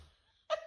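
A dog gives a single short, sharp bark close by, breaking a moment of near silence in a meme clip.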